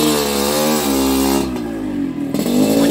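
A KMS Racing motorcycle from Tasikmalaya revving hard up close, a loud raspy buzzing engine that holds high, drops briefly, then surges again in sharp blips.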